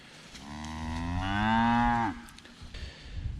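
Murray Grey cattle in a paddock let out one long, loud moo that swells and then cuts off sharply, followed by quieter rustling and faint farm background.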